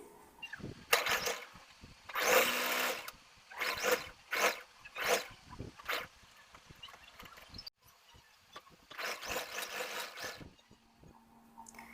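A sewing machine stitches the neckline of a suit in several short, loud whirring bursts separated by pauses filled with light handling clicks.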